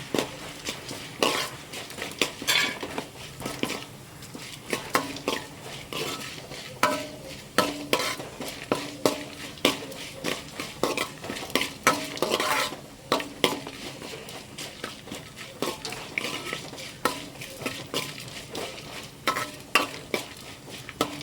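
Onion-tomato masala frying for tomato rice: continuous sizzling under a steady, rhythmic series of spatula scrapes and taps against the pan, close and busy throughout.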